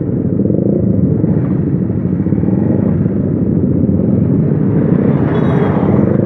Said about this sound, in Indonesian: Wih, ada Vespa. Ini Vespa yang gila.